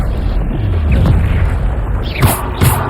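A Bombarda explosion spell goes off in the video game Hogwarts Legacy, with a deep booming blast and low rumble, followed by two sharp bright bursts near the end.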